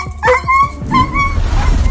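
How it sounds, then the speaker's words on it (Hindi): A dog yelps and whimpers after a jolt from an electric fence, a cluster of sharp high cries in the first second followed by a second, longer yelp, loud and close with no talk over it. "अब जो ही कुत्ते को करंट का झटका लगता है"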